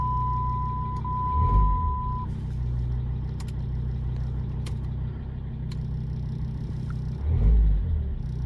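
A car engine idles steadily just after a cold start, with a low continuous rumble, a brief tonal beep early on and two heavier low swells, heard close without speech.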